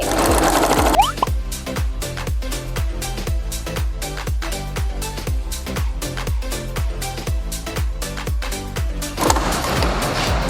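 A sewing machine stitches fabric for a large bag, its rapid, rhythmic needle thumps running loud and close for several seconds between brief handling noises at the start and end.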